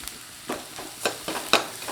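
Ground rasam spice powder and asafoetida sizzle and crackle in hot oil, with a few sharp stirring scrapes standing out over a steady frying hiss.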